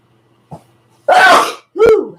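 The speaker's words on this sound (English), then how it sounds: "Hold on, I have to sneeze." One person sneezes loudly and close by, a faint intake sound followed by a long breathy burst and a sharp second explosive release, with no talking.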